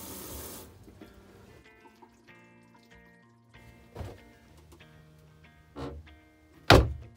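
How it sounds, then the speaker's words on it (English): Water runs briefly into a small truck camper sink, followed by quiet clinks and several gurgling bursts as it drains away. "However, this sink drains properly."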